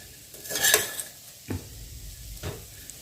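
Masala for eggplant masala rice is roasted in a pan while being stirred, with a soft sizzle under a scrape and a few sharp clinks of the spoon against the pan, close by.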